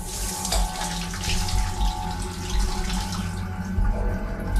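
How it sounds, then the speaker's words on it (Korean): A shower runs in an apartment: a steady, full rush of falling water that continues throughout and eases slightly toward the end, with no talking. "확실히 샤워 소리도 아직 지속되고 있다."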